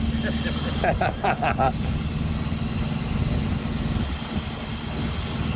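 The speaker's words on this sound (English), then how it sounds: "Listen to that diesel." A diesel engine runs near a chopper motorcycle build, a steady, low, droning rumble throughout, with a brief hissing burst early on and voices over it.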